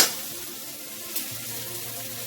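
Chopped onions, some large and some small, hitting hot oil in a pan for paneer butter masala: a sharp initial sizzle that settles into a steady, close frying hiss with a small clink partway through.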